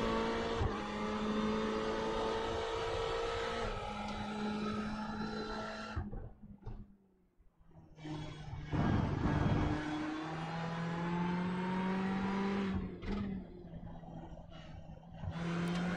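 A race car in the IMSA Dash Series at Sebring roars at high revs, drops sharply as it downshifts and slows, then climbs again, loud and close.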